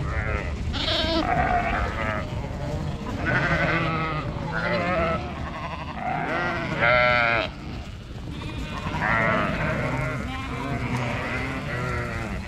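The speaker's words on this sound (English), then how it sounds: "So these are single ewes and lambs." Sheep bleat repeatedly as single ewes and their lambs are moved through a gate on a farm lease block, loud overlapping calls from several animals close by, continuing throughout with little pause.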